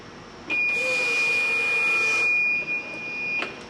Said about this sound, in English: That is the sound of a fuel-injected Mercruiser fuel pump priming itself.